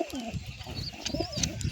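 Pigeon chicks and pigeons in a loft, soft close cooing and small chirping calls in short bursts, fairly faint, with low background movement.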